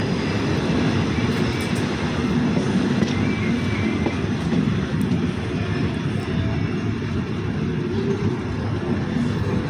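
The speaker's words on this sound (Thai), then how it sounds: "รถไฟก็ ได้ผ่อนความเร็วลงไปอยู่ที่ 40 กิโลเมตรต่อชั่วโมงนะฮะ" A train slowing to about 40 km/h on Thailand's northern line near Nakhon Lampang rumbles steadily with a continuous low roar and faint rail noise, no distinct clatter standing out, running on without a break.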